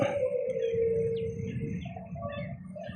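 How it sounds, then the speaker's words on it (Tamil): A crow and other birds call faintly in the open air near mangrove wetland, a drawn-out cry followed by scattered chirps and softer calls in the background. "சத்தம் கேட்குதா உங்களுக்கு? காகம், இப்போ மற்றது நிறைய பறவைகள்."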